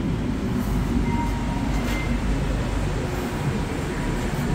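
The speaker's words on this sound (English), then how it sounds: "So there's the train on the opposite side." A Montreal metro train arrives at a station, a steady loud rumble of rubber-tired wheels and motor with faint high squeals and clicks, and no talk.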